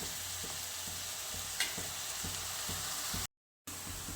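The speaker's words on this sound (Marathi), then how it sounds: "कांदा आपल्याला आता परतून घ्यायचा आहे लालसर होईपर्यंत गॅस आपण फुलच ठेवणार आहोत" Sliced onion sizzles and crackles steadily in a pan over a full flame, with a broad hiss and a few spatula stirs, briefly cutting out to silence near the end.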